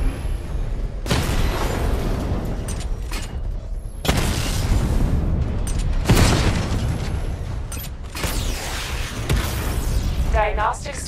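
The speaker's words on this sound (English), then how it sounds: "Destroy targets to charge up weapon energy and activate missile barrage." Batmobile missile barrage in Batman Arkham Knight, several heavy booming explosions in quick bursts with mechanical whirs between them, loud and close, with game voices speaking over parts of it.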